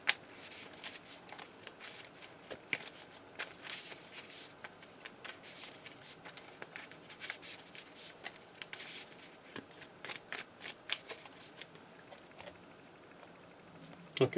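Weiss Schwarz trading cards shuffled by hand during a deck refresh in an Avatar-themed match, a steady stream of soft riffling and flicking clicks running the whole time at close range.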